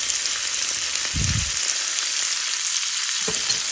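Hot oil sizzles and spatters steadily as tomato fries with turmeric, with a couple of louder stirring scrapes in the pan.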